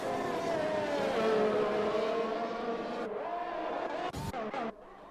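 Formula 1 cars race in the F1 2021 video game, with Aston Martins running nose to tail: a loud, continuous engine whine rising and falling in pitch, then a sudden shift and brief sharp bursts near the end.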